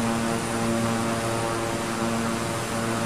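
Beechcraft 350i King Air twin-turboprop in Microsoft Flight Simulator produces a steady, loud propeller and turbine drone with a constant tonal hum, unbroken and without voices.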